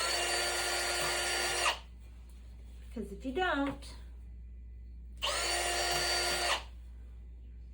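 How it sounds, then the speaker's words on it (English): A power drill pre-drills holes for screws in the frame of a roll-up curtain for an RV or horse trailer door, giving two loud, close whirring runs of about a second and a half each, with a person talking briefly between them. "you're gonna wanna pre-drill holes."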